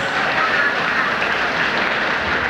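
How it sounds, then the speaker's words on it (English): A crowd applauds at an alumni homecoming for a high school's 80th founding anniversary, a dense continuous wash of clapping that holds steady and fairly loud for the whole short stretch. "Let's give them a round of"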